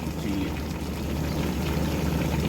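Water poured into a cooking pot of simmering chicken adobo, a steady, close gushing pour that runs continuously through the short moment.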